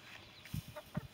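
A couple of short, low clucks from chickens, separated by brief pauses against a quiet outdoor background.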